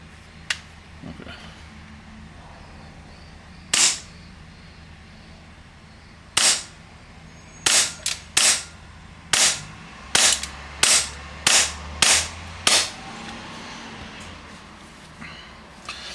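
A CowCow AAP airsoft pistol firing sharp, close shots: a few isolated cracks, then a quicker run of about eight snappy pops, with a little faint talk in between.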